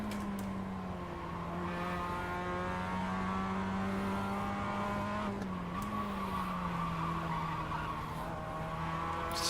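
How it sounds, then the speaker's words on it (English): Race car in the iRacing sim skidding on worn, overheated tyres, a sustained engine drone with steady tyre squeal running throughout at close range, no voices. "It is possible to save a skid, shall we say, or a drift on iRacing if your tyres are warm."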